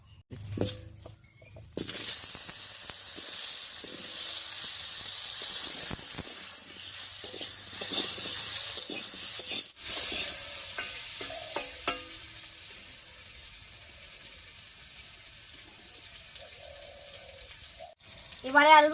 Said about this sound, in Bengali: এবারে মাছ ভাজার এই তেলের মধ্যে কেটে রাখা আলুটা দেব।